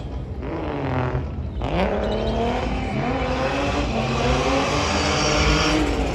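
A drift car engine revs hard and continuously at a drift festival in Gölbaşı, pitch sweeping up and down with tire noise, loud and close throughout.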